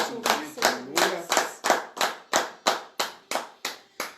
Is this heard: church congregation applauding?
yes